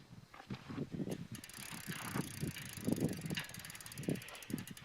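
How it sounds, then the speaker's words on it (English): An electric DIY bike's rear wheel spins forward on its freewheel, giving a steady rapid ratcheting tick close by over a low mechanical rumble, with no talk. "if I spin the wheels as if I was going forward, the freewheel is working"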